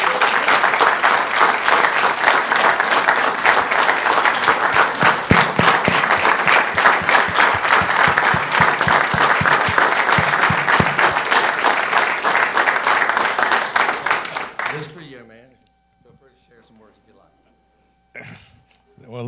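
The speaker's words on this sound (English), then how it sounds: "Let's give this guy a round of applause." Sustained applause from an audience at a North Augusta, South Carolina city council meeting, loud and dense clapping for about fifteen seconds before stopping abruptly into near silence.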